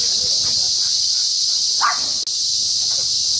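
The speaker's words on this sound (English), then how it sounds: "what sounds like millions and millions of cicadas" A dense, high-pitched cicada buzz fills the air continuously and loudly, with faint scattered movement sounds underneath.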